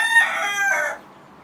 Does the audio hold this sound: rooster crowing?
yes